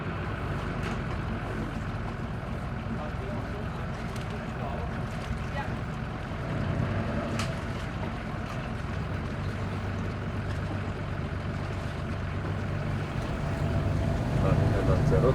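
A motorboat engine runs at a steady drone under wind and water noise, close and continuous, with faint voices in the background.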